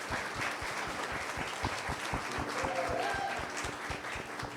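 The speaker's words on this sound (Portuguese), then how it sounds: "Uma salva de palmas para a pastora Cleidiane." Church congregation applauding a woman pastor during a sermon, steady dense clapping filling the room, moderately loud and continuous with faint voices mixed in.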